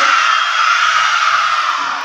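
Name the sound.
schoolchildren shouting team cheer at elementary school entrance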